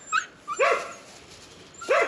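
A puppy whimpers in short high-pitched yips and whines, with several separate cries close by in an outdoor clifftop campsite.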